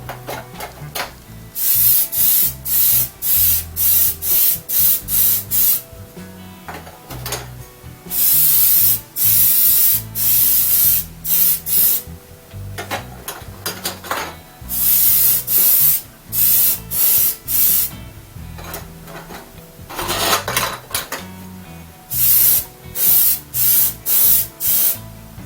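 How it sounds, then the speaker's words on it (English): Rapid bursts of aerosol spray from a can of clear coat misting model car kit parts, loud hissing blasts in repeated clusters with short pauses between them, no voices. "That sprays out real nice."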